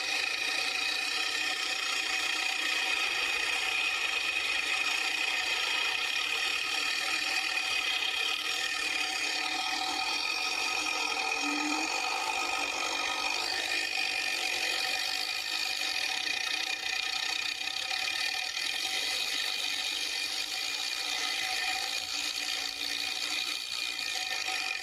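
Reel mower blades are backlapped with grinding paste, turning backwards, producing a continuous, even rasping and grinding hum that holds steady and moderately close for the whole stretch without speech.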